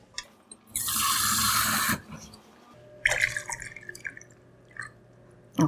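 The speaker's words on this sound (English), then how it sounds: "so pour a cup of water." Water poured into a pot from a cup while making Korean mixed rice (bibimbap) in a home kitchen, a single steady splashing pour of about a second followed by small drips, clinks and handling noises.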